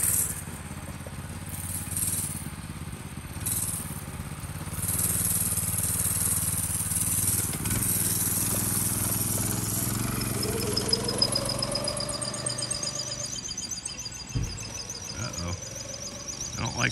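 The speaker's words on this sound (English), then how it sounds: "That's the band brake making noise." A vintage go kart's band brake grinding and squealing under a steady engine drone, with rising whines and rattles near the end, close and continuous.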